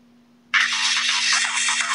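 A 48-kilobyte mono MP3 ringtone plays loudly from the back speaker of a Motorola V180 mobile phone, starting abruptly after a brief quiet hum and continuing as bright, somewhat tinny music.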